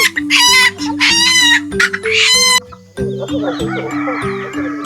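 Chickens cluck and squawk loudly nearby, with sharp repeated calls and a busy, overlapping chatter of hens.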